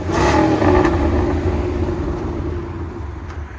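Idling and lightly revved exhaust of a 2016 Ford Mustang GT with a 5.0L V8, Flowmaster X-Pipe and valves closed, on a very cold day; a steady low rumble with an early swell that settles, close and alone.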